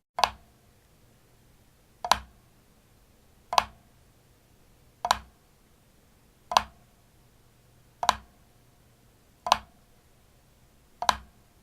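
Sharp drum flams repeat at an even, unhurried pace, each a crisp close double stroke, about eight in all, with quiet between them.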